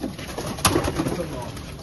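Domestic pigeons coo softly in a keeper's loft, a few low murmuring calls rising briefly over a steady, noisy background.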